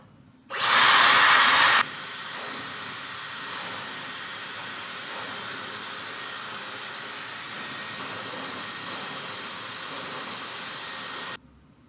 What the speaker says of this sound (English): So I just blow dry my hair,